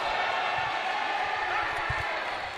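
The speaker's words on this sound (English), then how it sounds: "The crowd are getting really riled up now" Crowd noise at a college basketball game between Sheffield College and Charnwood College, a dense, steady roar of excited voices in an indoor gym with a few dull thuds beneath, loud and continuous.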